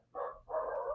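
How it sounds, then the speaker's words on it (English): A dog barks twice in quick succession indoors, two loud close barks in under a second with a short gap between them, heard alone without talk. "Oh, my dog is kicking off."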